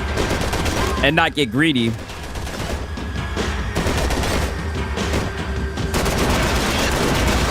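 Video game gunfire, dense rapid bursts of shots as a continuous loud barrage, with someone speaking briefly over it.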